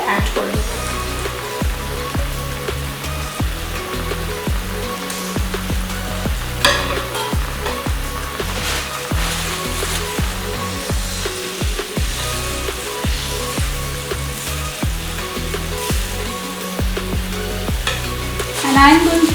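Fried pointed gourd bubbling in a mustard gravy in a pan, giving a dense, steady crackle and pop with occasional stirring scrapes, close and fairly loud throughout.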